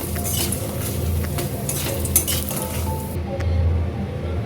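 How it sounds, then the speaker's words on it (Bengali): Homemade bori lentil dumplings fry in a pan with a steady, loud sizzle and crackle, broken by occasional clinks of a utensil against the pan. "এবার বড়িটা ভেজে নিচ্ছি।"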